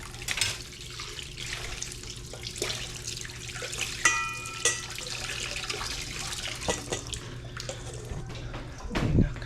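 Water from a tap runs into a sink during dishwashing, a steady close splash broken by clinks of plates and light handling noises, with a thump near the end.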